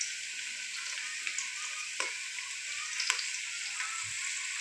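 Onions frying in a pan of hot oil while cooking Chinese chicken rice, a steady bright sizzle with occasional small pops and stirring scrapes, close and even throughout.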